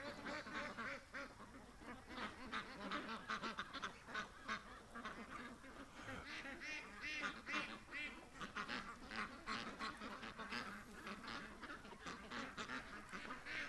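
A flock of ducks quacking busily while being fed, many overlapping calls in a steady, fairly faint chatter with no break throughout.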